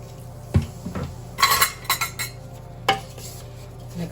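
A spoon clinks and scrapes in a bowl while homemade dishwasher pod ingredients are stirred with a splash of vinegar, giving irregular bright taps and a few sharper knocks, close and moderately loud.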